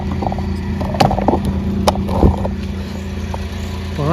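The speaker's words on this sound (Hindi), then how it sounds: "बाहर निकलूंगा, मगर मैं गाड़ी ऑन ही रखूंगा।" A car engine idles steadily at night, a low continuous hum with occasional clatters and knocks from the vehicle nearby.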